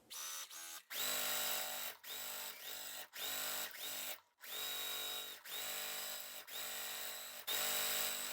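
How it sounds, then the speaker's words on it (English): Sewing machine stitching corners onto fabric squares, a steady whirring hum in about eight short runs separated by brief pauses, close and clear with no talking. "So I'm going to take my squares right here, sew on the corner."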